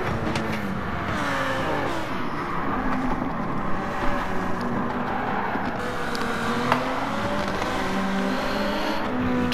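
Race cars in Gran Turismo 7 drag racing with a Toyota Supra, engines droning and revving steadily with pitch sweeps as cars accelerate and shift, a continuous mid-level motor roar.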